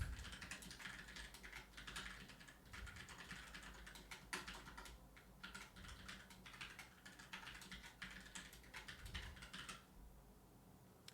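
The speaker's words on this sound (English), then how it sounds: "I was trying to save on some typing there" Steady, rapid typing on a computer keyboard while writing Clojure code, a dense run of soft clicks at close range and low level that stops near the end.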